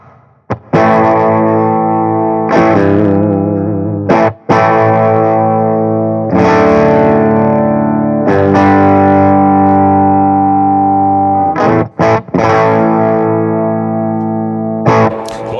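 A Tone City guitar effects pedal set to boost mode colours a series of sustained electric guitar chords, each struck loudly and left ringing with a short break between them.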